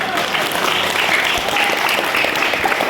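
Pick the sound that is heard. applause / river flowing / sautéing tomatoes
applause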